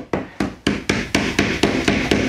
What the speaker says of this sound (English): We're just going to use the rubber hammer and get it all the way down to this corner.